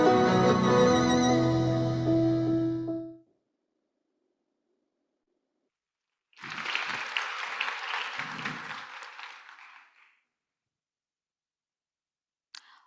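At a youth forum opening ceremony, a stretch of tonal music ends, followed by silence, then a crowd applauds after a film screening in a roughly four-second burst of dense clapping that dies away.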